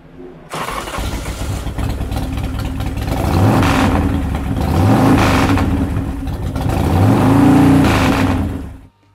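A 2005 Steed Appaloosa 300 chopper motorcycle with an upgraded exhaust starts up, then revs loudly three times in rising and falling swells between rough idling, close by and with no talking.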